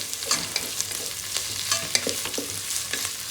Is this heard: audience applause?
no